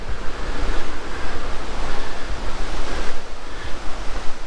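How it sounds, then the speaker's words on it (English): Steady wind gusts and buffets outdoors, a continuous loud rushing roar with slight swells and no other clear sounds. "It's really windy out here"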